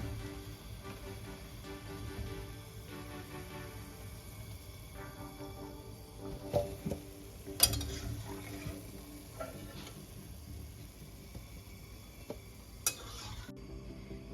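Nimki frying on low heat is stirred in oil, a soft steady sizzle with occasional light scraping and tapping of the utensil, quiet and close, no talking.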